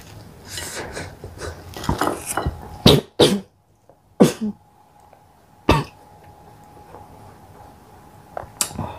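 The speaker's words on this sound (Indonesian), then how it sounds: "Duh, batuk." Several sharp coughs and throat-clearing bursts, close and fairly loud, come in an irregular run with pauses between them, over faint background rubbing and clatter.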